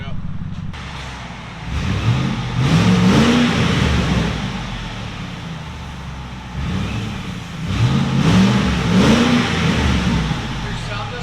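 Supercharged 5.4L V8 in a 2007 Saleen S331 SC pickup with Black Widow exhaust, revving twice in rising, rumbling pulls over a low idle, loud and close, with talk in the background.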